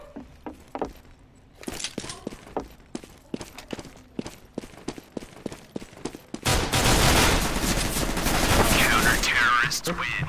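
Counter-Strike: Global Offensive match on the Inferno map: a string of sharp single gunshots spaced about a second apart, then a dense, loud burst of sustained automatic fire and explosions, with brief talk around it.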